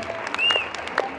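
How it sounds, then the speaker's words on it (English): Brief burst of audience applause at a fan convention panel in Manchester, a short close wash of clapping with a faint whistle-like tone running through it. "is dying to give a massive round of applause for our Knights of Merlin"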